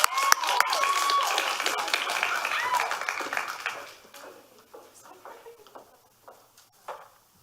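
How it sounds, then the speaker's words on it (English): Applause after a senior talk at a school gathering: scattered claps that swell briefly, then thin out and fade to a few isolated claps and quiet room noise. "Round of applause"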